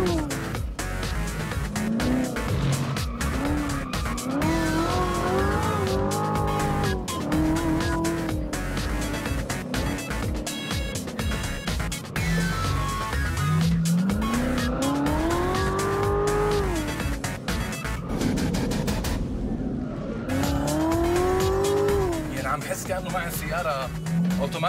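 A Chevrolet Corvette sports car corners on a track, its engine rising and falling through repeated revving sweeps with tires squealing, while someone talks over the car throughout.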